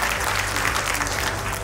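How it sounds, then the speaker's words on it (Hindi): A crowd at a school achievers' award ceremony gives loud, dense, continuous applause that fills the hall throughout, with no one speaking over it. "एक बार उनके लिए जोरदार तालियां हो जाए।"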